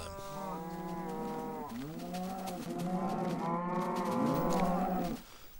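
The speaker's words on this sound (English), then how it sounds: "These cows are seriously annoying me now" Cows in a video game moo in long, loud, drawn-out low calls, several overlapping bellows running back to back with no talking over them.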